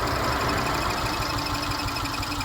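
A car engine idles roughly with a failing, overheating ignition coil, giving a steady, loud, uneven rumble with faint knocking pulses throughout.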